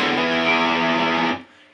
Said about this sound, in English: So what happens when you start using distortion and you get a really nice thick,